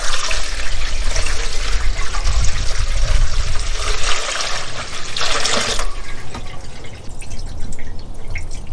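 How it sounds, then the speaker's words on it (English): Coolant pouring into a car engine, a close, continuous splashing and gurgling flow that shifts in texture partway through and keeps trickling to the end. "I think we're ready to throw some coolant in this thing."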